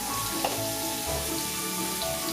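Garlic cloves and half an onion sauté in a pot, giving a steady, close, even sizzle with faint hiss and soft clinks, no talking over it.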